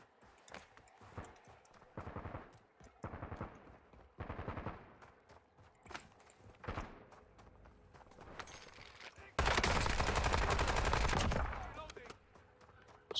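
Rapid automatic gunfire bursts in the Call of Duty: Warzone battle royale, several short volleys spread across the scene, then a long loud sustained barrage, with footsteps and a voice talking in between.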